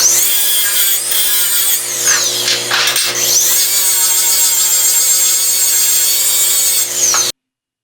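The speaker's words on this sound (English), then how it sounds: "we're going to prep our plates by sanding the faces and removing all the mill scale on the top and the bottom of each plate" Steel plates being sanded to strip mill scale before a MIG welding test, a loud, continuous high whine of a power sander grinding against metal, with slight shifts in pitch, stopping abruptly near the end.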